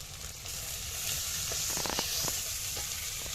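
Ginger paste goes into spices frying in a pan, bringing a steady, close sizzle with a few soft clinks and stirring scrapes over it and no talking.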